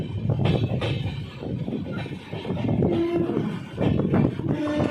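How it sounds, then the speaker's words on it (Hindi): The Udaipur City Express pulls out of Mavli Junction. A rolling rumble and clatter from the train fills the clip, and brief horn tones sound near the end. "मावली जंक्शन से डिपार्चर।"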